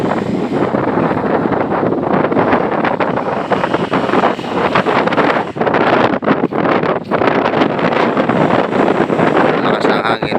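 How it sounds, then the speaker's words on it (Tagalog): Strong wind roars steadily and loudly across the microphone at a cold, foggy site in light drizzle, a dense, unbroken rush with little variation. "Lakas ng hangin, umaambon-ambon pa."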